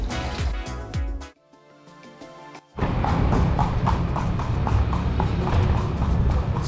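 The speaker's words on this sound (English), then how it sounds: "Today we have Gaga the horse" Horse hooves clip-clopping as a horse pulls a carriage through the streets of Luxor, steady rhythmic close hoof beats that briefly fade and then return louder with a dense trotting patter.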